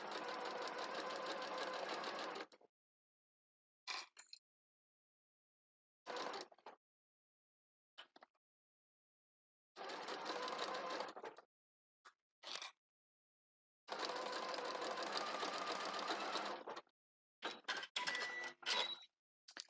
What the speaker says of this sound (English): Sew along the solid line of all of those different pieces.